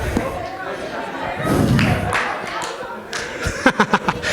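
A group doing a jump-clap-bow concentration exercise lands with dull thuds, then claps together in a short burst of several quick sharp claps, with voices mixed in.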